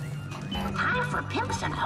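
Several dogs bark and yip in The Simpsons Game video game, short repeated barks and whines over background game sounds, with people talking in Spanish over them.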